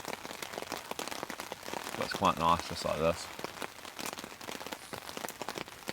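Steady rain pattering on surfaces at a wilderness campsite, a soft continuous hiss of drops throughout, with someone speaking briefly partway through.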